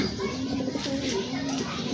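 A pair of sky-blue pigeons coo softly in repeated low, throaty phrases, close by against a busy background of indistinct voices and chatter.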